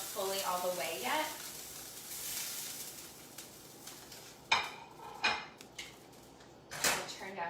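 Steak with onions and mushrooms sizzles in a skillet, a steady frying hiss broken by sharp clinks of a utensil against the pan and a brief voice near the start.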